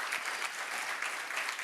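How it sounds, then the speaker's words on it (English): A conference audience at a security event applauds steadily, a dense, even wash of clapping with no voices over it for the short stretch. "We have to continue applauding"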